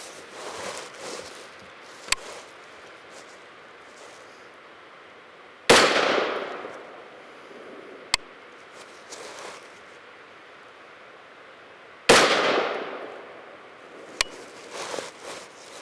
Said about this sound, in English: We're gonna go ahead and shoot a 0-0 group, so zero windage, zero elevation in the optic.